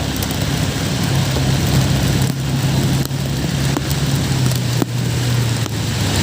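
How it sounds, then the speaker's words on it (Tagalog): Heavy rain pours in a dense, steady hiss during a flood, with a low engine hum running underneath. "Grabe, lakas ang ulan."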